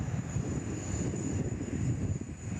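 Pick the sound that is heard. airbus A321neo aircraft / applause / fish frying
airbus A321neo aircraft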